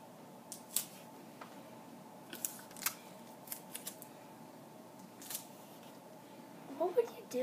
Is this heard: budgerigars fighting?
no